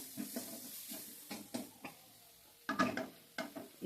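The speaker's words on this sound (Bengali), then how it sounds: "টমেটো মশলার সাথে একটু নেড়ে নেবে।" Faint, scattered scrapes and taps of a spoon stirring tomatoes and masala in a pan, with a soft sizzle underneath.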